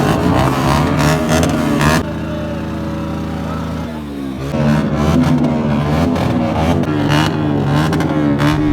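Several vehicle engines revving and firing in a crowded street gathering, loud and continuous with shifting pitch as throttles rise and fall, voices faintly mixed in.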